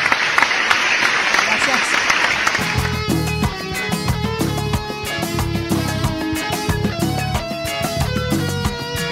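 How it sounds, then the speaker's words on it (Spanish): Audience applause at a live show in a sushi restaurant, a loud burst of clapping over the first few seconds that gives way to music as a brief spoken thanks is heard. "Aplauso, por favor."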